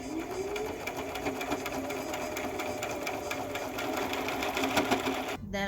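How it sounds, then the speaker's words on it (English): A sewing machine stitches right along a marked line on folded fabric while a summer sun top is being made, a steady, close whirring that runs without a break before stopping abruptly at the end. "So what I'm going to end up doing, folding this in and sewing right on the line."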